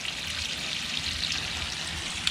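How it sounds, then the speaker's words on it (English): Water rushes out of a Hayward pool pump and filter in a steady, close hiss of flow, with no talking. "See the water coming out?"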